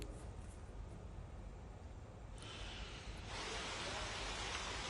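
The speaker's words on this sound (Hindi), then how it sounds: "बिल्कुल रिमझिम बारिश यहाँ पे हो रही है" Light drizzling rain falls outdoors in Delhi-NCR as a steady, soft broadband hiss that grows slightly brighter and denser partway through, with no talking.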